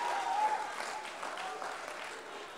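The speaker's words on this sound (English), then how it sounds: "Give your guys selves a great big round of applause." An audience at a biology day program gives itself a round of applause: moderate, steady clapping with faint voices mixed in.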